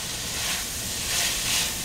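Spices blooming in hot oil in a pan give off a steady, bright sizzling hiss that swells slightly at moments, close by with no talk.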